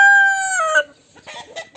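A small village hen gives a drawn-out, falling squawk, then a run of short, quick clucks, close and loud.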